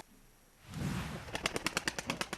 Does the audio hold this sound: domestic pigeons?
yes